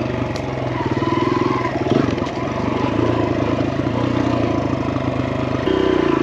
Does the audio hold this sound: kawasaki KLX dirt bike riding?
yes